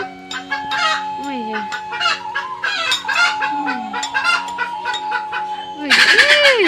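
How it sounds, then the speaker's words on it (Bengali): Hens jostle over laying eggs, a loud, close run of overlapping clucks, squawks and rising cackles, ending in a sharper outburst of cackling. "মুরগিগুলো কেমন মারপিট করছে ডিম পাড়ার জন্য"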